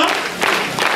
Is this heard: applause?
yes